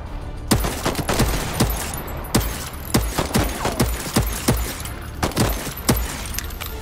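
Gunfire in the video game Voidtrain, set at a train station: repeated sharp shots at an irregular, rapid pace, some nearer and louder than others, over a busy rumbling background.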